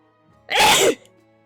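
One loud, sharp sneeze bursts out close by, short and explosive, set against near silence.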